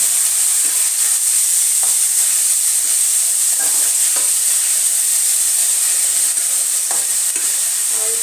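Chopped onion with ginger-garlic paste frying in a pan for a Bengali prawn curry: a steady, loud oil sizzle and hiss throughout, broken by occasional soft scrapes of stirring. No voices.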